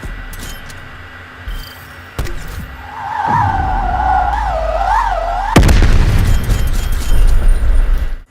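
A gunshot rings out in Black Ops Cold War, a loud close boom that follows a rising whine and jet-like roar and leaves a heavy rumbling tail.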